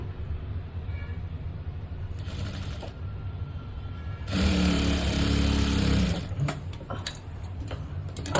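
A sewing machine stitches a blouse seam, a short faint whir followed by a louder steady run of about two seconds, then a few scattered mechanical clicks over quiet room noise.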